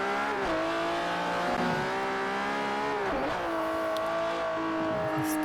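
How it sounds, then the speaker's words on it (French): A small Ferrari in Forza Horizon on Xbox 360 revs hard, its engine whine rising and falling steadily and loudly throughout with no pauses. "Cette petite Ferrari là."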